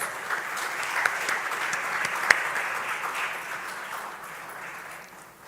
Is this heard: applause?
yes